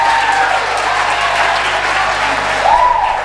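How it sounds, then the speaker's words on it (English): An audience breaks into sustained, loud applause for a performer, a dense, even wash of clapping throughout with a brief voice rising near the end. "I think she deserves a round of applause for that one."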